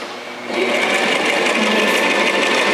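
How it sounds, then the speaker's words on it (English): A sewing machine stitches a skirt seam, starting after a brief quiet moment and then running as a fast, steady, high-pitched whirring buzz, close and loud with no pauses. "So we're just going to sew."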